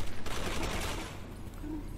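Gunfire from the Resident Evil 6 video game: a loud burst of rapid shots packed into the first half second, trailing into a rough, noisy decay with no talk.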